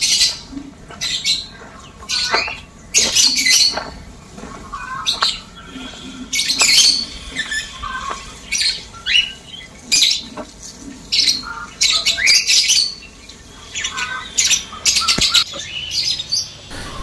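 Birds at a farm in Kozhikode city, where chickens, ducks and pigeons are kept, give repeated loud squawks and chirps in irregular bursts, close by and without talk.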